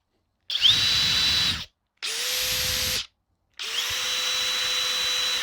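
A DeWalt DCF870 hydraulic impact driver runs at third speed in three separate bursts, each a steady, loud motor whine with a high tone that starts and stops cleanly, with short silences between them.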